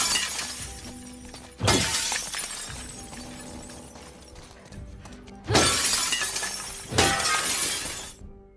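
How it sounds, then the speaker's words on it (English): Glass breaking and shattering in The Last of Us Part 2, with shards falling and crunching on the ground under Ellie's footsteps; three loud, sharp crashes, each trailing off into tinkling debris. "that glass, the breaking, the falling, the shattering on the ground, and the crunch as Ellie walks over it"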